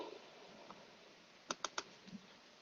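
Keystrokes on a computer keyboard while entering a transfer function in MATLAB: three quick, close clicks form a short burst, with a few fainter taps before and after over a quiet room hum.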